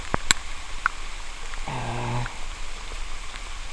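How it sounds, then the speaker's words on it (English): Heavy rain falls in woodland beneath a holly tree, a soft steady patter with a few sharper drops and a brief low tonal hum in the middle, heard without speech. "Rain's getting even harder."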